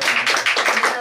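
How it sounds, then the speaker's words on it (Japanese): A brief burst of audience clapping at a live concert, many hands beating in quick, uneven pulses up close for about a second, with a voice faintly underneath. "拍手いただけますか"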